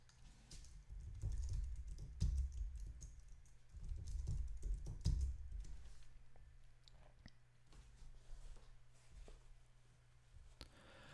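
Soft typing on a computer keyboard, a quick run of faint clicks and taps at close range with a low hum underneath, no talking.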